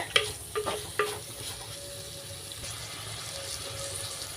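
Chopped onions sautéing in oil in a pan for a Kerala-style crab roast, a steady low sizzle running throughout with a few soft stirring clinks near the start.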